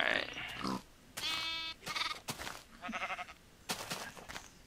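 Sheep in the Minecraft video game bleating several times in a row, clear and close, a mix of wavering and short grunting calls with no talking over them.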